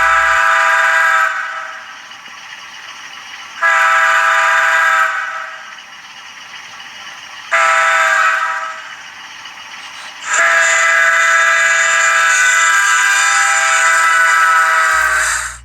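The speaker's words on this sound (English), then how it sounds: "that was in fact the Doppler horn" A Rapido MLW M420 model locomotive sounds its Doppler horn in three loud, sustained chord blasts with short gaps, the last blast held longer before cutting off.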